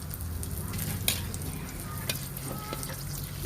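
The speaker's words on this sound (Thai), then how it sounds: "เราก็เอามะเขือลงไปคั่วก่อนเนาะ" Eggplant being dry-roasted and stirred in a hot pan, a steady close sizzle with a few scraping clicks of the utensil.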